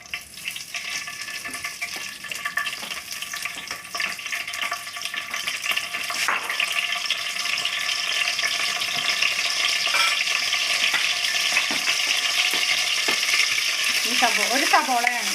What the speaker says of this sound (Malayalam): അതിനായി 4 ഇല്ലി വേപ്പില ഇട്ടു.